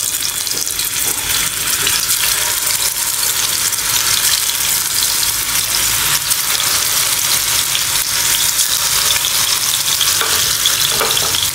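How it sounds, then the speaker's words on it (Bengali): Mutton kababs fry in hot oil with a loud, steady, close sizzle and crackle that carries on without a break, and no voices. "এবার কাবাবগুলো আমি ভেজে নিব"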